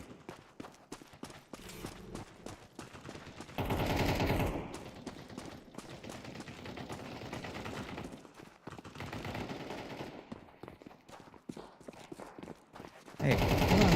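Rapid gunfire bursts from a first-person shooter video game, sharp repeated shots scattered throughout under game sound and music, with louder bursts of firing near the middle and end.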